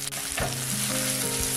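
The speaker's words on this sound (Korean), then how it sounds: "근데 양파를 볶는데 너무 많이 볶으면 안됩니다" Onions stir-fry in a little cooking oil over a gas stove, a loud, close, continuous sizzle with faint clicks and scrapes of stirring.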